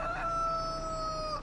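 A rooster crowing in the farming video game Farming Simulator 25: one long, clear cock-a-doodle-doo call that holds steady for over a second, close and fairly loud, with no one talking.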